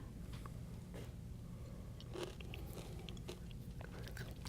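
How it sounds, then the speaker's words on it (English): A spoon cracks the caramelised sugar crust of a vanilla crème brûlée, with a few quiet, brittle crunches and crackles close up over a soft background hiss. "So you have to crack it and then take a spoonful."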